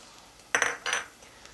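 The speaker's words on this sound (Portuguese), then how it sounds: "Deixa eu pegar aqui a minha concha." A ladle being picked up from among kitchen utensils, giving two quick metallic clinks and rattles in an otherwise quiet kitchen.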